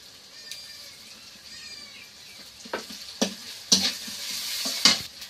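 Panch phoron spices and ginger-garlic paste frying in hot oil, with a soft steady sizzle that swells into louder sputtering bursts as more paste goes in, close by and with no talking.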